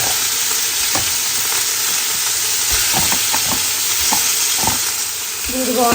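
Chicken added to a hot pan fries with a loud, constant sizzle, with intermittent scrapes and knocks of stirring throughout.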